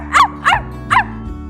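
A dog barking in an Aesop's fable about a greedy dog, three short sharp barks spaced evenly and fairly close, with no other sound between them.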